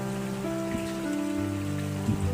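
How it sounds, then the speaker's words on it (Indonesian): Rain falls steadily and fairly close, a continuous patter on surfaces with a low background hum, no voices. "Hujan."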